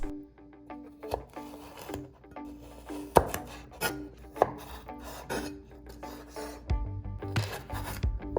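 Carrots being cut into sticks with a knife on a board, a close run of repeated chops and scraping strokes with occasional light clinks, steady and moderately loud.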